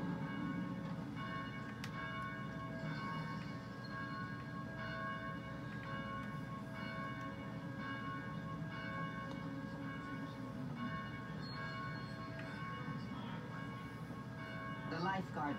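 Steady, sustained bell tones ring throughout against a dense, droning background, like church bells pealing continuously in the game Dead Island.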